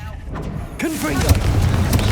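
A Confringo explosive spell goes off in Hogwarts Legacy, a sharp booming burst followed by a rolling rumble and crackle, fairly loud, with a voice speaking over the start.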